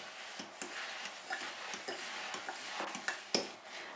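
Coconut shavings being stirred into cookie dough in a bowl, faint rhythmic clicks and scrapes of a utensil against the bowl repeating about every half second, quiet and close.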